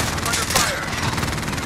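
Dense, continuous automatic gunfire from a sentry gun during a Call of Duty Warzone Resurgence match, loud and sustained with rapid overlapping shots throughout.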